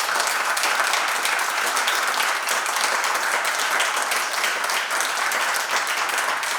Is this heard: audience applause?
yes